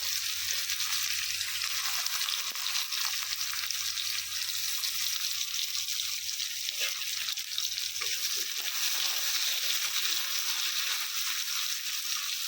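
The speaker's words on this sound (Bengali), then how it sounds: "গরম গরম তেলের মধ্যে দিয়ে দিলাম জিরা দিয়ে দিলাম পেঁয়াজ" Steady, close hiss and crackle of cumin and onions frying in hot oil, continuous throughout with occasional soft stirring scrapes.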